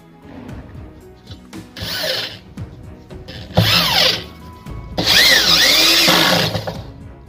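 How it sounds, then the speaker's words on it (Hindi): Power drill boring a hole for a screw while fitting a PVC rolling shutter in a modular kitchen, three loud whirring bursts of rising and falling pitch, close, with handling clatter between them and no talking. "पहले आप सुराख कर लें हल्का सा से और हथौड़ी से, फिर उसके बाद पेंच लगाएं"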